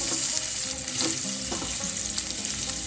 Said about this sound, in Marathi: आता मी कढईमध्ये थोडं तेल टाकून घेतलेलं आहे, 2-3 चमचे.